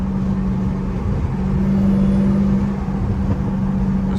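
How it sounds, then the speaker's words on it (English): Dodge Hellcat engine and exhaust drone steadily at low pitch with wind noise from inside the car, revving during a downshift in traffic, close and loud throughout. "my exhaust sound exactly the same"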